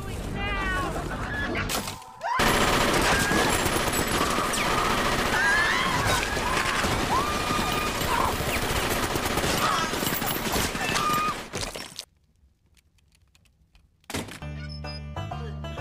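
Rapid bursts of gunfire in the film Terrifier 2 (2022) crackle in a dense, continuous barrage for several seconds, then cut to near silence before other sound resumes.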